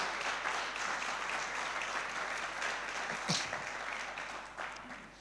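Faint, distant applause from a church congregation during a sermon, a soft continuous patter of clapping with a brief louder burst partway through.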